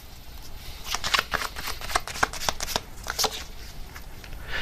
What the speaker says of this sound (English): let me get another card here